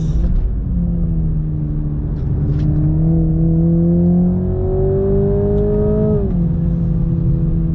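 Under acceleration on track, a 2022 Toyota Supra 2.0 four-cylinder drones loudly and close, its pitch climbing steadily for several seconds before a sudden drop at an upshift, with no talking.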